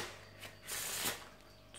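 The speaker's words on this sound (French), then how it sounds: "Vous pouvez faire un mélange américain." A deck of playing cards riffle shuffled close up, a quiet quick flurry of ruffling card flicks followed by a short bridge and soft settling.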